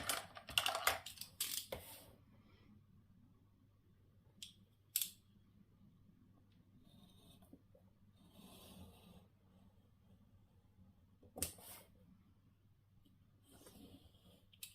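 Scissors snip paper for a scrapbook folio album in a few quick bursts at the start and again later, close and crisp against a quiet room with light rustling between cuts.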